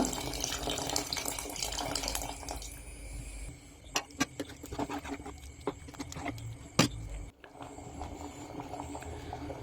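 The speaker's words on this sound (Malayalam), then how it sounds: "അപ്പോൾ നമ്മൾ പുളി ഒഴിച്ച് കൊടുക്കുക" Tamarind water pours and splashes steadily into a pot of sambar for a few seconds, then stops, followed by scattered clinks and light kitchen clatter.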